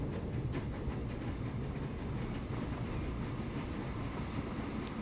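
A train rolls along in Transport Fever 2, a continuous low rumble with faint clickety-clack of wheels over rail joints, steady and moderately quiet with no voices.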